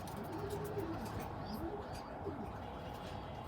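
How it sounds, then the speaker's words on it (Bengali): Domestic pigeons kept in a home loft coo in low, rolling repeated calls, close by over a steady background hum. "আর এটা আমার ঘরের কবুতর।"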